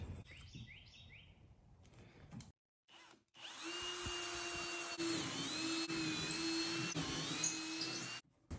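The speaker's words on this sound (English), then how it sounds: "All right, we're gonna drill these holes out." A power drill boring 1/4 inch holes in a jon boat runs in one steady, close whine for several seconds, after a brief burst of bird chirps and a short pause.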